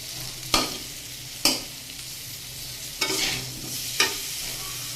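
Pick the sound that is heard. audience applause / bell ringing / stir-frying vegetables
stir-frying vegetables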